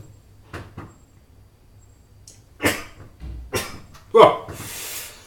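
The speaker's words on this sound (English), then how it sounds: "That was a big sneeze now." A single sharp sneeze bursts out near the mic after a few quieter breathy sounds and shuffles, with a brief noisy hiss trailing off.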